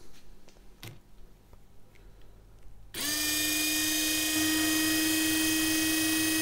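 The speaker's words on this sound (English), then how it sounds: "Before I start, I just want to make sure that the rotors spin freely." A corded drill converted from a series-wound motor to permanent-magnet DC starts up after a quiet stretch and runs freely with no load, giving a steady, loud, high-pitched motor whine that holds to the end.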